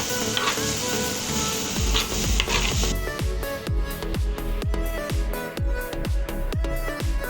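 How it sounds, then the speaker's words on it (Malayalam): Apple pieces added to a hot pan of oil with turmeric for apple pickle, a steady loud sizzle followed by a regular series of spoon scrapes and stirring strokes against the pan. "തയ്യാറാക്കി വെച്ച ആപ്പിൾ അതിലോട്ട് ചേർത്ത് കൊടുക്കാം."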